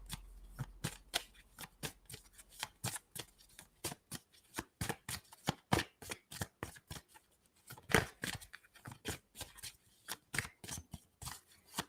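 A deck of playing cards is shuffled repeatedly up close, giving dense rhythmic riffling bursts that run nearly continuously, loud and crisp with no talking.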